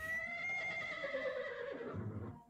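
A horse in the film Devil's Story gives a long, loud whinny that rises and then trails off, with a faint hoof thud near the end and no talk.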